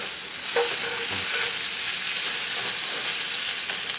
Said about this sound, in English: what I always like to do at this point is just kind of scrape a little bit to make sure I got most everything up